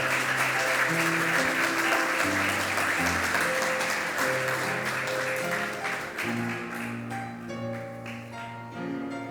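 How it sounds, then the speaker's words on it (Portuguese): A church congregation claps during an evening service while organ or keyboard chords sustain underneath; the applause is moderate and steady, thinning slightly toward the end. "Uma salva de palmas a Jesus."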